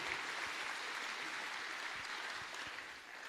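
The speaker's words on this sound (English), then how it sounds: "give her a big round of applause" An audience at a martial arts event claps steadily, a dense wash of applause heard from a distance that fades slightly toward the end.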